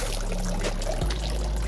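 Water pours steadily out of the drain of a styrofoam box fish tank, a continuous close splashing trickle with no talk.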